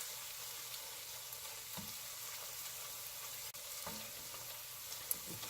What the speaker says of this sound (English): We want to continue stirring the tomato paste for about 3 minutes.